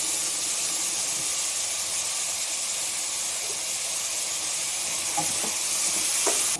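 Eggplant and onion frying in a pan with coconut oil, a steady broad sizzling hiss throughout with a few soft clicks and stirring taps near the end, no talking.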